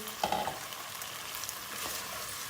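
Potatoes go into a pan of frying tomatoes and peppers, setting off a soft steady sizzle that follows a brief clatter as they land, close and fairly quiet, with no voices.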